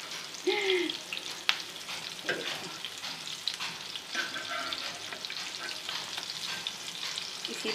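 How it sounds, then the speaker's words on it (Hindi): Beef chapli kebabs frying over a low flame in a pan, giving a steady close sizzle with scraping and stirring sounds throughout and no voices. "तरह आपने फ्राई कर लेने हैं तमाम कबाब।"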